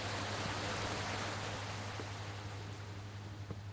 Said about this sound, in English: Ah, that rain is so loud.